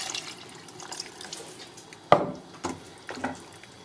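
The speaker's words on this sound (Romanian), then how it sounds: "Nu mult, mai vin cu 500 ml de apă." Water is poured into a pot of cabbage and pork rib soup, a soft, close splashing and trickling with a couple of sharper knocks from the pot, and no talking.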